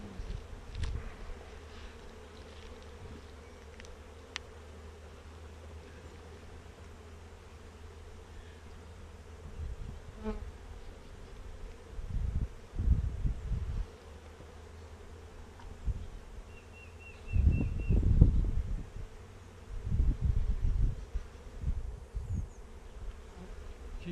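Honey bees buzz around a hive in a low, continuous drone that swells and fades as they fly close past, with soft rustling in the background.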